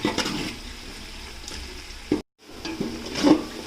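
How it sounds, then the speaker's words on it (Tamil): Onions and slit green chillies sauté in a pan for Salem-style dum chicken biryani, a soft moderate sizzle with stirring scrapes, broken by a brief silent gap midway, no talk. "வெங்காயம் கொஞ்சம் நல்லா வதங்கட்டும்."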